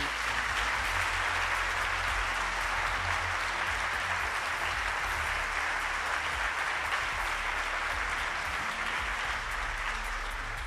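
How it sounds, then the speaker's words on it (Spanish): Audience at a live radio history program event in Spain applauding the crew, a loud, dense and steady wave of clapping lasting about ten seconds without talk. "a todos ellos un aplauso muy fuerte, por favor"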